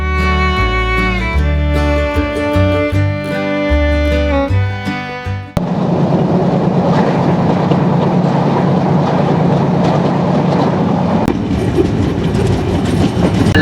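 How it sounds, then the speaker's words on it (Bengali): Jahanabad Express runs between Khulna and Dhaka: a loud, sustained tonal horn-like drone with a deep rumble gives way abruptly to the heavy, roaring clatter of wheels on rails, close and continuous. "লোকোমোটিভের সাউন্ডটা বেশ ভালো লাগে।"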